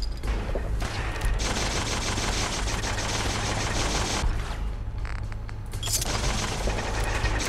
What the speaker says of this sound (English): Oh crap, there's so much shooting going on here.